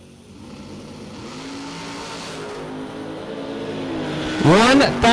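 Drag racing hot rods, one a Cadillac Roadster, build engine noise toward a loud, close launch with screaming revs at the end, while an announcer talks over the track throughout.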